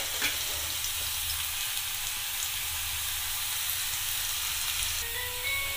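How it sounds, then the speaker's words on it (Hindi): Garlic frying in oil for a beans dish, a steady soft hiss of sizzling, fairly quiet and even throughout, close by with no one talking. "ये देखिए लहसुन थोड़ा सा भुन चुका है"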